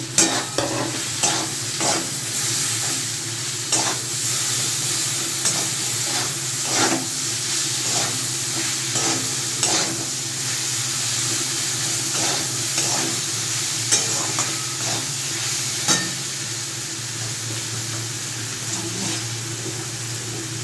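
Cumin, garlic and chilli pastes fry in a pan for a Bengali bitter gourd and potato curry. A steady, fairly loud sizzle runs throughout, punctuated by regular ladle scrapes and clicks from stirring.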